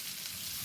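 Onions and fideo pasta sizzle gently in a pan, a steady, soft frying hiss held close and even throughout with no voices.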